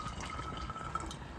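Water is poured from above into a pot while cooking outdoors, a quiet, continuous trickling splash that holds steady without voices.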